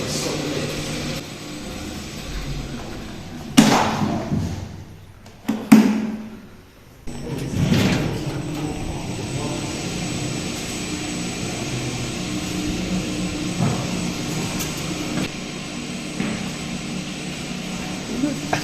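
Elevator lift motors, one of them gearless, hum steadily in a lift motor room on the 28th floor of a Benidorm building, with a few louder bumps and clunks early on.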